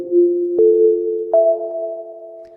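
A synthesizer drone reduced to its first harmonic holds a steady, smooth tone with no voice over it, shifting slightly in pitch twice along the way.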